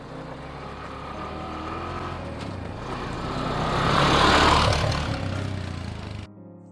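An ATV drives along Upper Quaker Road after leaving a trail parking lot, its engine a steady close drone that swells louder through the middle and then cuts off abruptly near the end.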